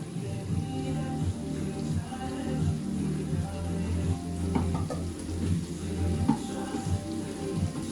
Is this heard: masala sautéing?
yes